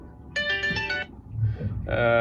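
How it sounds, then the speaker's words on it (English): A phone rings aboard a yacht in two bursts of electronic ringtone with a short gap between them, heard over nearby talk and background noise. "Sorry, the phone is calling."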